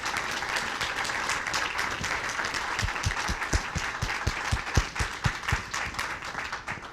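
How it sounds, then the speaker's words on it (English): Applause fills the room at a school district board meeting, with steady clapping throughout and several sharper individual claps standing out near the end, moderately loud. "Let's give her a great round of applause"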